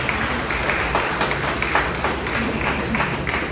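Sustained applause from a ceremony audience celebrating a police anniversary, dense steady clapping filling the hall with a faint murmur of voices beneath it.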